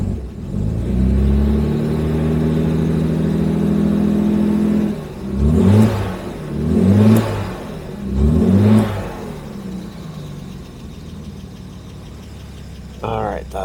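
A Jaguar E-Type engine with an oil pressure gauge issue, heard in a workshop: a steady, loud idle, then three short revs blipped one after another before it settles back to idle.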